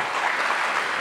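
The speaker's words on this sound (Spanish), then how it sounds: "Denle un aplauso bien fuerte a la palabra de Dios." A church congregation applauds during a Sunday worship service, a brief steady wash of clapping with no pauses, moderately loud and even throughout.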